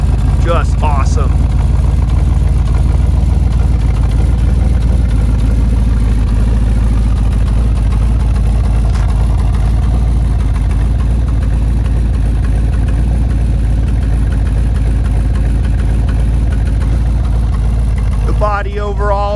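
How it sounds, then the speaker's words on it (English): A 1968 Chevrolet Camaro SS396 with a big-block V8 idles steadily, its exhaust a deep, continuous low rumble close by, with a voice speaking briefly at the start and end. "Listen to that exhaust."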